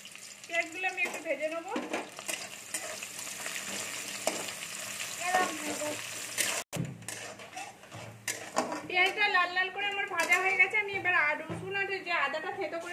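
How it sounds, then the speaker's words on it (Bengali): Chopped onions hit hot oil for a masoor dal tadka, giving a steady broadband sizzle with stirring and utensil clinks, while someone talks over it throughout. "তেল আমার গরম হয়ে গেছে, আমি এখানে পেঁয়াজ কুচিগুলো দিয়ে দিচ্ছি।"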